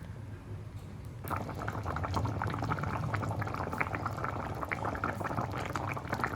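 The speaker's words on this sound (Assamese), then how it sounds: "আৰু এয়া ধুনীয়াকৈ উতলি গৈছে।" Fish curry bubbling in a pot over a wood fire, a soft steady simmer of popping bubbles that grows a little fuller after the first second, faint and with no talk.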